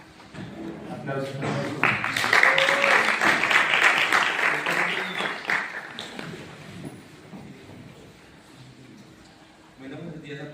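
Audience applause at a geography department conference swells into a moderate burst of clapping over a few seconds, then thins out and fades, with voices murmuring underneath.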